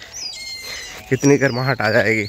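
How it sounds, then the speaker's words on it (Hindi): Faint morning bird chirps sound in the background, first heard alone and then under someone speaking. "चिड़िया भी बोल रही होंगी, आप लोगों को आवाज़ सुनाई पड़ रहा होगा ना।"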